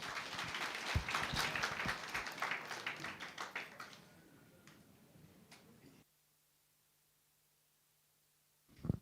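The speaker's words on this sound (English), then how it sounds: "That is how you clap for a doctor." An audience at a club members' recognition event claps for a doctor, a loud burst of scattered hand claps that thins and fades after a few seconds into near silence, with a brief sound returning at the very end.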